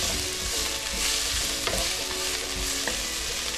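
Chopped cilantro is stirred into a sizzling mixture in a frying pan while cooking menestra de mellocos, with a constant close fry and scraping spoon strokes.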